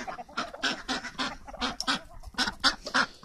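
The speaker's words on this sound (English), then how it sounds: "let the chickens choose" Backyard chickens let out of their coop, clucking and squawking in a rapid, repeated series of short calls close by, with no talking.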